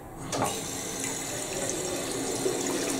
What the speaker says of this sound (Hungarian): Amikor megnyitom a meleg vizet, akkor ez történik.